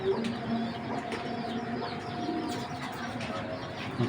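Racing pigeons at a loft, giving soft low cooing calls with occasional wing flaps at moderate distance, in a steady quiet setting with no talking.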